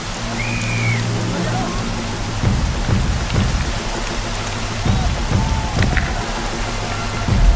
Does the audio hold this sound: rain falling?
yes